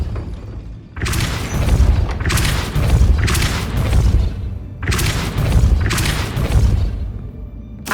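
A Depulso spell cast in the video game Hogwarts Legacy, heard as booming blasts that come in two bursts, each a series of loud heavy thumps and rushing noise with brief pauses between.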